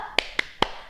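Three sharp, evenly spaced claps a little apart from a children's Sunday school group doing a spirit clap, crisp and close with nothing between them.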